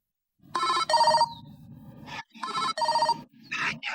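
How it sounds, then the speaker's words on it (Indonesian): A telephone rings in repeated double bursts of bright electronic trills, close and loud, with a short pause between each pair and no voices over it. "Oh, siapa lagi telepon nih?"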